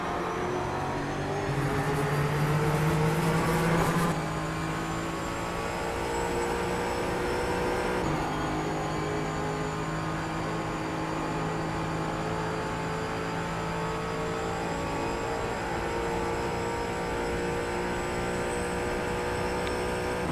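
Race cars in the iRacing sim, a close engine drone with a rising whine that swells near the start, then holds as a steady high-revving tone throughout, with no voices.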